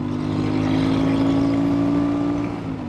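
A Royal Enfield Super Meteor motorcycle engine hums while riding, a close, steady rumble whose pitch climbs slightly and then eases back near the end.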